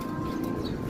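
Racing pigeon cooing after landing at its loft, a soft continuous low murmur held close and steady for under a second, with no talk over it.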